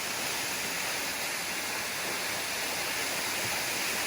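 A waterfall at Gibson's Cave in the Yorkshire Dales, running at low flow, gives a constant, even rush of falling water with no pauses, heard alone.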